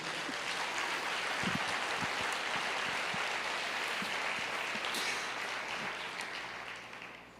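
A church congregation applauds, a dense, sustained wash of many hands clapping that holds steady and then fades toward the end.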